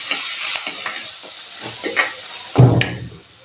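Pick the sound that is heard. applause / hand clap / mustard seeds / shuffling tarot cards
mustard seeds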